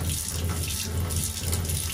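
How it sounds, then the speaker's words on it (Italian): A boat's fresh-water pump or pressure set hums steadily while a galley tap runs, the water's continuous hiss and rush sitting over a low, constant motor drone throughout. "E questa è la pompa dell'acqua o l'autoclave."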